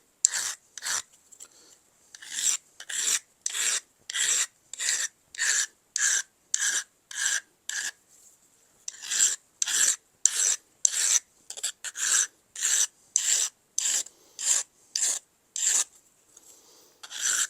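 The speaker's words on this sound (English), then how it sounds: "You can hear that file really cutting into that steel." A hard mill file sharpening the edge of a steel card scraper: steady, evenly paced rasping strokes, about two per second, close and crisp, with a few short pauses between runs.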